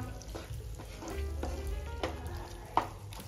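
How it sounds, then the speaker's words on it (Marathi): Paneer masala spices sautéing in a pan with fresh curd, a steady low sizzle broken by several soft stirring scrapes and one sharper clink near the end. "आता हे सर्व साहित्य आपल्याला छान परतून घ्यायचं आहे 2 ते 3 मिनिटं"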